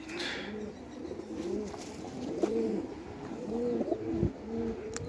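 Pigeons coo softly in a loft, several low, throaty rolling calls repeating at close range over quiet room noise, with no talking.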